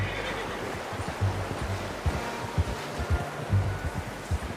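Horse in Red Dead Redemption 2 snorts and whinnies alongside rhythmic hoof clip-clops, with a low outdoor game ambience and no talking.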